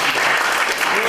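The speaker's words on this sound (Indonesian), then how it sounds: "Tepuk tangan sekali lagi untuk Pak Hartono." Audience applause for Pak Hartono at a class event, a dense steady wash of clapping filling the whole moment, loud and sustained from start to finish.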